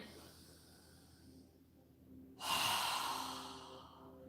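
A strong, forceful exhale through the nose during a yoga breathing exercise, a sudden loud rush of air that breaks a quiet stretch and then fades gradually over about two seconds.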